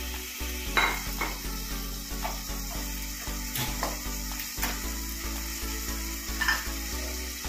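Bottle gourd pieces fry in oil in a pan with a continuous sizzle, while periodic stirring scrapes and clinks sound against the metal alongside a steady low hum.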